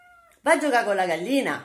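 A house cat meows in one drawn-out, wavering cry at close range, coming in after a person speaks briefly.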